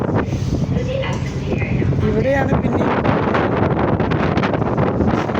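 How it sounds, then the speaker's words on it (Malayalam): Strong wind buffets the microphone outdoors on a path down toward a dock in Malta, a continuous loud roaring rumble under someone talking throughout. "നല്ല ശക്തമായ കാറ്റുണ്ട്"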